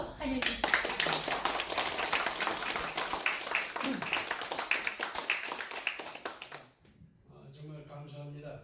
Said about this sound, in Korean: 큰 박수로 환영해 주시겠습니다.